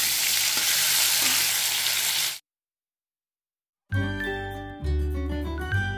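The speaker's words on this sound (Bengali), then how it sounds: "হালকাই ফ্রাই করব।" Shrimp frying lightly in a kadai gives a loud, steady sizzle for about two seconds, then cuts to silence before music begins.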